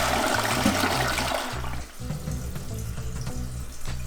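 Water rushes steadily down a toilet bowl after a new flapper is installed, loud and close, then settles into a softer continuous trickle.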